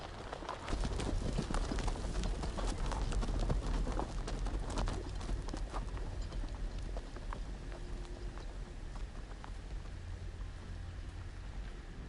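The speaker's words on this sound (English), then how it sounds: "No, no puedo correr porque estos van a caballo." Horses gallop in a Game of Thrones video game, a fairly quiet, steady patter of hoofbeats mixed with a rain-like hiss that stays even from start to finish.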